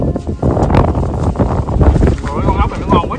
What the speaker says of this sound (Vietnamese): Mà cũng gió quá trời luôn.